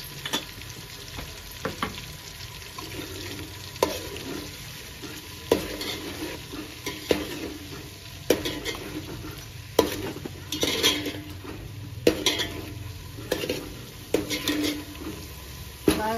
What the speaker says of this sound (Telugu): బాగా ఫ్రై చేయి.